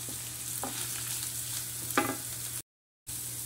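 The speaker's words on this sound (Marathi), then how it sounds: "हे सर्व घालून मिक्स करायचं आहे, छान भाजून घ्यायचं आहे हे सर्व 2 मिनिटं" A potato mixture for bread patties is stirred in a hot pan, giving a soft steady sizzle with a couple of brief spoon scrapes, quiet and close, then a short silent gap.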